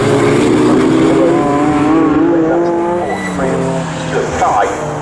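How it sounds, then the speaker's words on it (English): Saloon race car on track in a Classic Thunder saloon race, engine roaring loud and close with pitch sweeping down as it brakes into a corner, under a commentator's continuous talk. "He's heading in towards the braking area"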